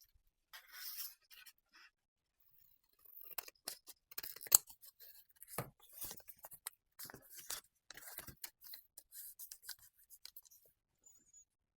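Scissors snip paper for a Christmas photo journal, a close, quiet run of short irregular cuts and rustles that starts after a brief pause and continues in bursts.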